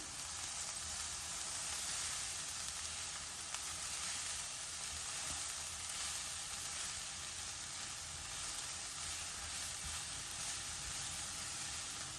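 Cabbage curry sizzles and fries in a pan, a soft, steady hiss with faint stirring scrapes, quiet and continuous with no voices.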